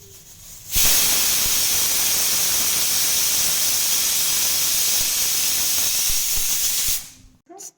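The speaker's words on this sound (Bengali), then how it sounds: "স্টিমটা বেরিয়ে গেছে" Steam hisses loudly and steadily from a pressure cooker of chicken curry, a close, continuous broadband rush that starts abruptly, holds for about six seconds and then cuts off.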